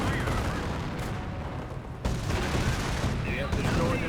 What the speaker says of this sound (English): Mortar gets a good hit.